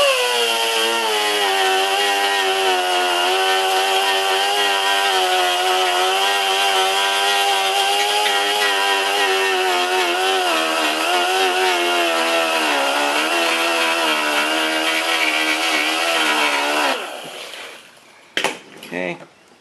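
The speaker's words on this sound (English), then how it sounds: "you want to grind off some of the paint and look and see a crack end somewhere around here" Power grinder working on a urethane plastic bumper cover to remove paint, a steady loud high whine with a harsh buzzing edge that runs unbroken for about seventeen seconds before cutting off, followed by brief clatter.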